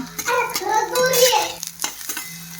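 Vegetables and curry leaves sautéing in a pan, with a spatula scraping and clattering against the metal in quick strokes over a light sizzle, close and fairly loud.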